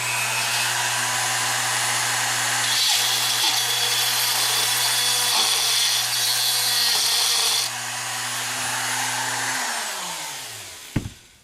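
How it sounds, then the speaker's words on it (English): Dremel rotary tool with a cutting bit grinding into a plastic Genesis Coupe tail light housing, a loud steady high-pitched whine with a harsh buzzing edge that runs for about ten seconds before the motor winds down, ending in a brief clunk. "if you got a Dremel, a bit like this that'll just kind of cut through and move around inside once you get it going"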